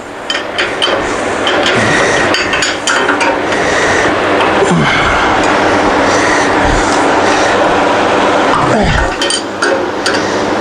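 Loud metallic ratcheting and clanking as a wrench works a stuck bolt free on a Grizzly bandsaw during assembly. Harsh grinding clicks fill the clip without a break, close up, with no speech.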